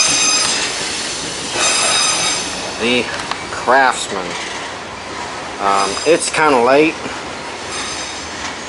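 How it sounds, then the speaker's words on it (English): A passing train rumbles and rattles with wheel noise throughout, loud and close, while someone speaks briefly over it near a mower. "sorry about the train noise"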